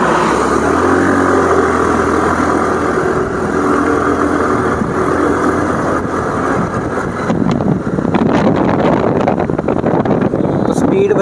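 A Honda Activa 110cc scooter ridden down a straight road, its small engine humming under heavy wind buffeting that grows rougher as speed builds, with someone talking over it.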